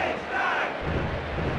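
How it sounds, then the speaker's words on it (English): A capacity crowd at a wrestling match in the WWF War Zone video game roars and cheers steadily. The broad, continuous noise fills the clip, with no commentary heard over it. "Listen to this capacity crowd."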